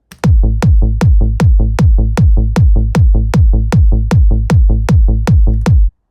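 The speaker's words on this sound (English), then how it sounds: "together with the kick, the bass end sounds like this." Trance bass playing together with a kick drum: a fast, relentless run of sharp kick hits interleaved with rolling bass plucks, dense and loud with continuous energy, stopping abruptly near the end.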